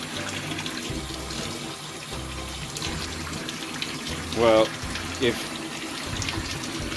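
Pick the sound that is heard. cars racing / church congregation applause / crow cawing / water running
water running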